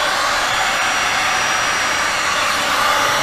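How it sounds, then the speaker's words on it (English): A heat gun turned up high blows over alcohol ink and resin, giving a loud, steady, close whooshing roar of hot air that holds constant throughout, with no talking. "And then you could get your heat gun."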